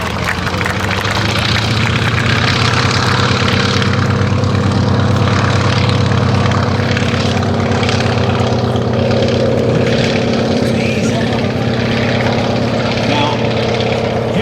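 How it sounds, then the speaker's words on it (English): A loud, steady Antonov An-2 nine-cylinder Shvetsov radial engine drones and idles nearby at an airshow, a continuous deep rumble with a rough throbbing texture. "It says it's got this 9-cylinder radial engine, the Shvetsov ASH-621R."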